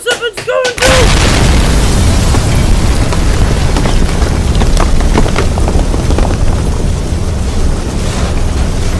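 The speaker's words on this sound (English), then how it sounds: "The potion was explosive!" A potion explodes as a movie sound effect: a short voiced cry, then a heavy boom that swells into a long, loud rumbling roar with crackling debris.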